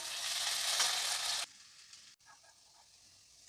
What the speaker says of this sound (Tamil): இப்போ நம்ம இந்த மாதிரி கட் பண்ணி வச்சுருக்கிற பாவக்காயை வச்சு வச்சுட்டு கொஞ்சம் நேரம் எண்ணெயில் வதக்கி